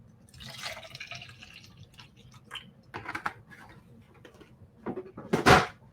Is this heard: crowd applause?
no